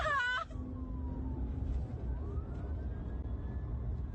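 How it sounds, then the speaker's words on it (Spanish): A police car siren sounded on request for a passenger: a brief rising-falling wail at the start, then a fainter siren tone over steady vehicle and street noise. "los funcionarios incluso hacen sonar la sirena a petición de una de sus pasajeras"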